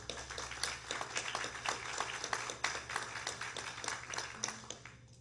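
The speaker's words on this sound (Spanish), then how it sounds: "Un aplauso para Manuel" Faint, somewhat distant audience applause at a forum on energy sovereignty, scattered claps over a low steady hum, continuing evenly for several seconds.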